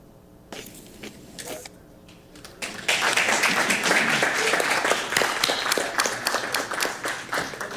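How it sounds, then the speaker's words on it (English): A board meeting audience breaks into applause, starting with a few scattered, separate claps before swelling into full, loud, steady clapping from the whole room. "One more round of applause for"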